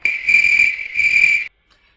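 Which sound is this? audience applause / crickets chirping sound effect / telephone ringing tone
crickets chirping sound effect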